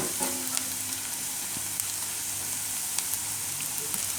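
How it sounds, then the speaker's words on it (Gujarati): Onions frying with turmeric in a pan for a Gujarati redu dish, a steady close sizzle with light crackles running throughout, no voices. "તો થોડીક વાર આપણે ડુંગળીને પકાવી લીધી."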